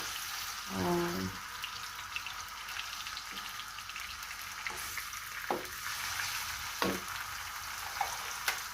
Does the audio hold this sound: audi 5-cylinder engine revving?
no